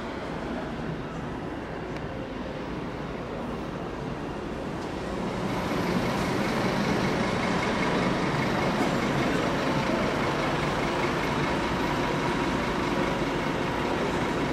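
A CP 1432 locomotive's engine rumbles steadily at Carcavelos, growing louder midway as it draws nearer, a broad continuous roar with no talking.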